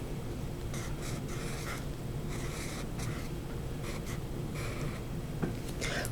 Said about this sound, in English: I'm going to use a blue marker for ISU and write LED